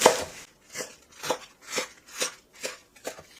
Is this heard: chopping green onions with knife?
yes